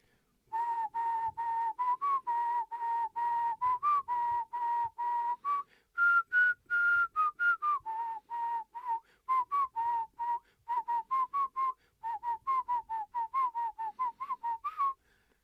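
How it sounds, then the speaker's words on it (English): One person whistling a lively tune alone in a rapid series of short, clear notes with brief pauses between phrases, close and steady in a quiet room. "Whistling like a good Protestant."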